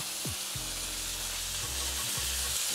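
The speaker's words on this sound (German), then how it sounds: "Ich lege jetzt meine Saté-Stäbe hier einfach drauf" Steady sizzling of chicken satay skewers frying on a hot teppanyaki grill, a constant hiss with a few low thumps as skewers are set down.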